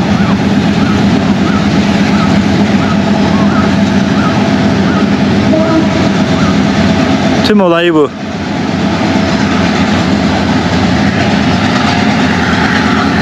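A train in Sri Lanka rumbles past at steady volume with a brief swooping horn or wheel squeal near the middle, while a person speaks briefly.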